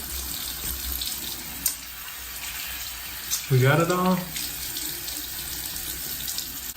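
Tap water runs steadily into a sink while a face is rinsed clean of Lush Coalface charcoal soap, with splashing hands, a brief high squeaky voice and a short spoken question over the flow.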